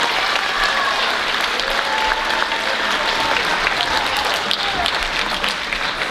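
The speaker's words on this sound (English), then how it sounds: "give our 7th graders another round of applause" A school audience at a middle school winter band concert claps and applauds steadily and loudly throughout, with no break in the sound.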